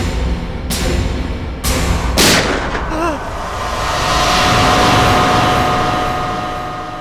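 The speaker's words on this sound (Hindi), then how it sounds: "चला के देख लो, टीवी पे फायर करके देखो।" Gunshots fired at a TV in a crime drama scene: a few sharp, loud, close bangs in quick succession, followed by a lingering rumble and ringing tone.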